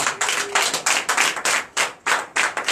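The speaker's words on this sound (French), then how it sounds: "Donnez l'acclamation." A church congregation at a Sunday service in Comè, Benin, claps together in a brisk, rhythmic beat, sharp repeated hand claps close and loud with no talking over them.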